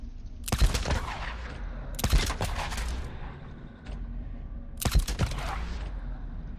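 Gunfire in the video game Days Gone, three loud bursts of rapid shots about two seconds apart, each dying away into a steady low background rumble.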